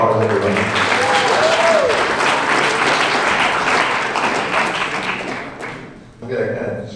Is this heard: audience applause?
yes